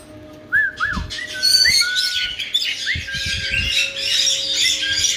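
Several pet birds chirp and whistle in quick, overlapping bursts close by, with rising whistles and busy tweeting over a low room background.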